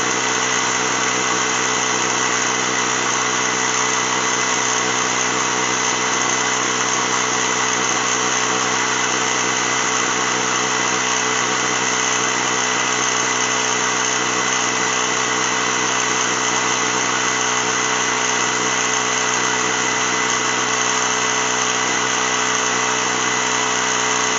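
A Ryobi ONE+ 18V cordless mini compressor runs continuously while inflating a tire, a steady loud buzzing motor drone with a constant pitch, no voices over it.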